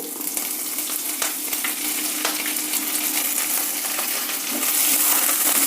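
Cumin and green chillies roasting in oil alongside chana dal, urad dal, ginger and curry leaves: a close, crackling sizzle with scattered spatters and scraping stirs, growing a touch louder near the end, no talking.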